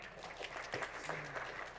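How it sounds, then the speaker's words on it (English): A brief round of applause from an audience at a programming talk, moderately close, with a few voices and scattered sounds mixed into the clapping. "One last applause"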